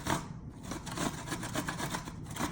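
Food with the skins left on is rubbed against a grater in quick, rhythmic rasping strokes, up close and fairly quiet, with no talking.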